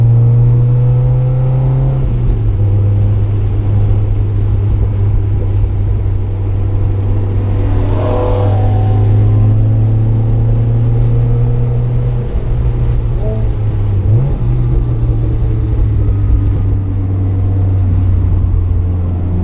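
Mazda NC Miata with a 2.5 engine lapping Eagles Canyon Raceway, a loud sustained in-car engine drone at high revs with two quick shift dips in pitch, tyre noise underneath.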